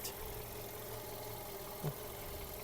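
A 2006 Volkswagen Golf Plus with the 1.6 MPI petrol engine idles steadily, its quiet exhaust giving a low, even hum close by, with a brief small knock partway through and no talking.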